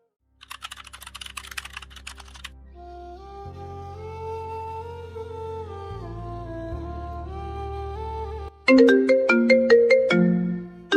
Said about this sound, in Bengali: কে ফোন দিল?